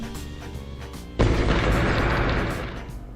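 A building blows up in the city-destruction game CitySmash, a sudden loud explosive boom that gives way to a dense, roaring rumble of collapsing debris which slowly tapers off, with a low musical bed underneath.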